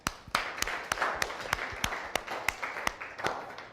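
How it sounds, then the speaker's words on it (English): Scattered audience clapping at a drug awareness session, with sharp, spaced individual claps standing out over a softer bed of group clapping and faint background murmur. "Let's give him a clap."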